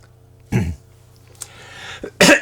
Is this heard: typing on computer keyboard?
no